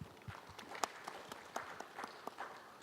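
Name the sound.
applause welcoming a presenter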